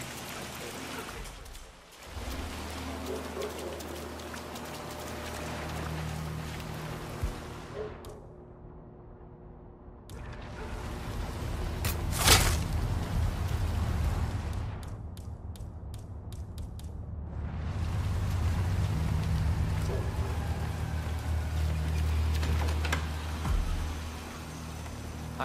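Rain falls in the Chongqing level of Hitman 3 as a steady, full hiss that briefly drops out and returns a few times, with low ambient rumble beneath.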